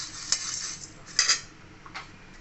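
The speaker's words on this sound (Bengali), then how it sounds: "শুকনো কড়াইতে একটু মুড়িটা ভেজে নেব" Puffed rice being dry-roasted in a dry kadai for jhal muri, a few light scraping stirs and metallic clinks of a utensil against the pan, quiet and close with no talk.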